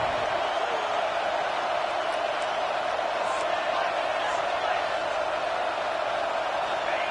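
A football crowd against Texas roars as a constant broad wash of cheering on a big third down, holding steady throughout while a commentator's voice runs over it.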